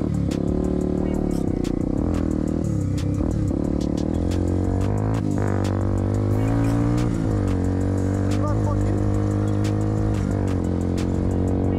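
A 150cc vertical-engine motorcycle with an untuned carburetor, on its first tests, runs loud and close throughout, its rough engine note rising and falling in uneven revs with rattly, sputtering texture.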